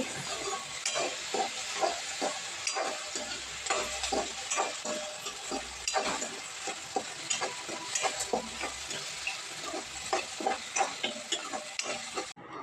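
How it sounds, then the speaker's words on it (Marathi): Tomatoes and a half handful of raw peanuts stirred and frying together in a pan, a steady sizzle broken by repeated scraping stirs at a close, moderate level with no talking. "टोमॅटो पण चांगल्या रंगावरती परतवून झाला त्यामध्ये आपण कच्चे शेंगदाणे घालणार आहोत थोडेसे अर्धा मूठ"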